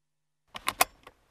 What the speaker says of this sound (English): that's the sound of a rear seatbelt being fastened.